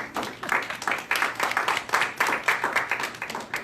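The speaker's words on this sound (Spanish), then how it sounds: "Un aplauso por Julián" An audience at a Bible study claps in a quick, uneven patter of many hands, a short round of applause of moderate loudness with little voice beneath it.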